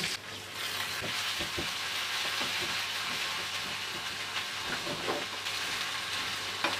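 Mustard seeds, curry leaves, crushed garlic and ginger, cumin and dried red chillies sizzle in hot oil for a tempering, a steady close crackle with scattered sharp pops throughout.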